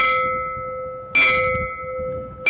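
An old bell at the Lahore General Post Office rings loudly twice, a sustained metallic tone that lingers and decays between the close strikes.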